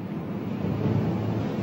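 Howling hurricane-force wind and heavy ocean waves surge around a ship in a storm, a steady broadband roar of wind and water with no voices.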